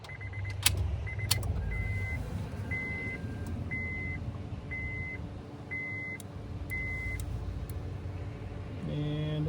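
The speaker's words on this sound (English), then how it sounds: "Now, of course, that's the second click. It's accessory then on." A Honda Accord ignition key turns with a few sharp clicks and a light jangle near the start, followed by a run of short, evenly spaced chimes over a low, steady hum inside the car.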